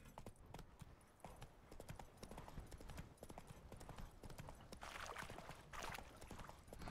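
Hooves of a horse clip-clop in a steady walking rhythm in The Witcher 3, quiet and close, with no speech over them.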